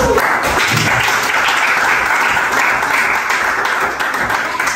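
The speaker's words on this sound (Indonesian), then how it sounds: "berikan tepuk tangan untuk kelompok" A class claps for a student group during a school lesson, steady dense clapping filling the whole stretch at close range.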